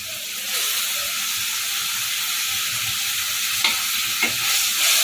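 Chopped tomatoes frying in a pan for sambar give a close, continuous hiss and sizzle, with a couple of brief spoon clicks against the pan near the end and no talking.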